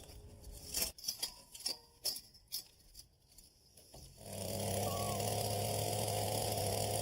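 A few scattered knocks and rustles come first, then a small garden tiller engine starts and settles into a steady, close drone as it churns compacted soil. Nobody speaks.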